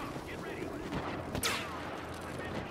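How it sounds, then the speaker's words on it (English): Gunfire in the Star Wars Battlefront video game, a few sharp shots cracking over a busy background of game noise, with a louder burst near the middle. "Somebody shooting at me."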